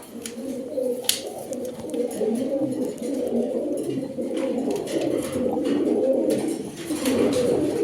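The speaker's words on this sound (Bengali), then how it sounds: "দর্শক দেখেন কিভাবে ডাকতেছে কবুতরটা" A male pigeon coos continuously in low, throaty rolling tones, close by, with faint background noise and occasional clicks.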